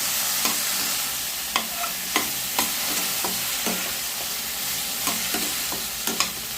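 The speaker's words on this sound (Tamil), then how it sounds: "இப்போ இதை நல்லா வதங்கி வரட்டும்" Tomatoes and potatoes sautéing in a pan give a continuous sizzle, with regular sharp stirring taps against the pan heard up close and no talking.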